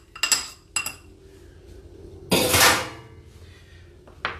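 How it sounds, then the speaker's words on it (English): An egg is cracked and lightly mixed in a bowl while preparing gnocchi dough: two sharp clinks, a short scraping rattle against the bowl, then a final click, all close and crisp. "first we will crack the egg and mix the egg a little bit"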